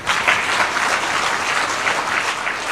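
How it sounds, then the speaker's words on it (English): Audience applauding steadily to welcome the President of Kenya at a formal national address, a dense sustained clapping that stays loud throughout with no talk. "Jameni, let's all be upstanding and we welcome the President with a round of applause."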